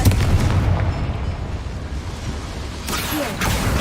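A Confringo spell blast in Hogwarts Legacy, a loud fiery burst with rumbling game action around it, followed by a second bright crackle toward the end.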